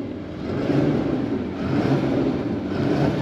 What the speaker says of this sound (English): Let's go ahead guys and hear this inline six.